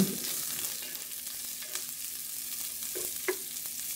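Garlic, onion and ginger frying in oil for lamb, a steady close sizzle with a few stirring scrapes and clinks near the end.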